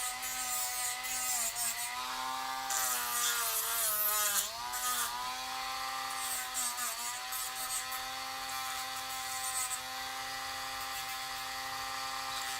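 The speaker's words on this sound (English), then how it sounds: "we could actually shave this down a bit" A small high-pitched rotary tool whines steadily while shaving down a plastic factory toy piece, its pitch dipping briefly as it bites into the material, close and continuous with no talk.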